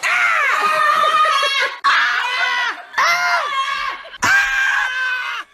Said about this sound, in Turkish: Özellikle bağırma sahneleri.